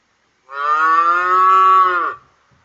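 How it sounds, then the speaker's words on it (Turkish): A single long, loud cow moo, close by, steady and drawn out for about a second and a half before trailing off. "Peki inek nasıl ses çıkarır?"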